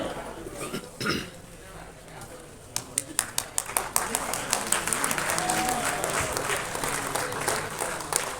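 Applause at a film audio launch, beginning after a brief murmur and rising into scattered then steadier clapping from a crowd, moderately distant and sustained to the end.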